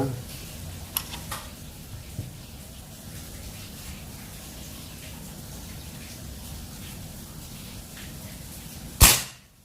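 A single shot from a Mini Bullpup Army air rifle with a 30 cm barrel and 3500 psi charge, fired at target practice: one sharp, loud crack near the end after a long stretch of quiet low background hum and faint ticks.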